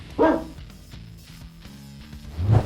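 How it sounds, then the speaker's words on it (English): A dog barks twice, one sharp bark near the start and a deeper bark at the end, over quiet background music, with the Ubu Productions logo sound. "Sit, Ubu, sit"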